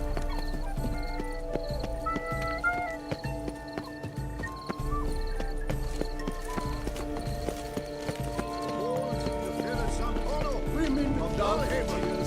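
A horse in The Witcher 3 clip-clops at a gallop with steady rhythmic hoofbeats and lets out whinnies, backed by game ambience and music. A voice speaks briefly over it.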